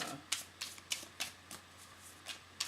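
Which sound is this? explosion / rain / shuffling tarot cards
shuffling tarot cards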